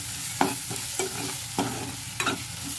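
A spoon stirs freshly roasted kasuri methi into masala frying in oil for a paneer curry, with a steady sizzle and a few evenly spaced scraping strokes against the pan.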